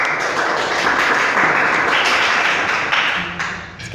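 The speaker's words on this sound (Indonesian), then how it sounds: "Tepuk tangan semuanya." Audience applause at a gathering, a dense burst of many hands clapping together, loud and close, holding steady for a few seconds before tapering off.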